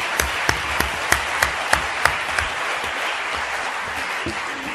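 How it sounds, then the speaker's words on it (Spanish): A seated audience at a Catalan association talk gives a strong round of applause, a full wash of clapping with one or two louder hands beating close and steady early on, fading slightly toward the end. "us torno a demanar i ja per últim un altre fort aplaudiment"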